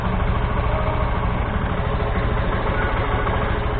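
A 2016 Yamaha FZi motorcycle, an older four-year-old bike, idles just after start-up with a steady, close, continuous low engine putter through the muffler, even and unbroken throughout.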